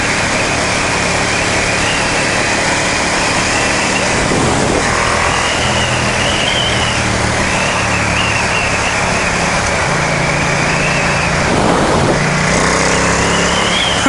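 A Ducati XDiavel S motorcycle engine runs steadily at close range for the whole stretch, with brief shifts in its drone as gears change, including a slight shudder low in the rev range.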